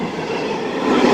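CSX freight train rushing past at high speed close by, a loud continuous roar of wheels and rail noise filling the whole moment.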